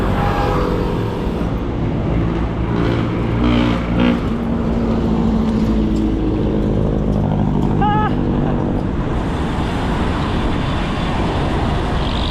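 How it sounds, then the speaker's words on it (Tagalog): A car passes during a road ride through Manila near Intramuros and Quezon Bridge, set against a continuous loud rumble of traffic and engine noise, with a brief higher chirp midway and people talking over it. "Yan, may sasakyan."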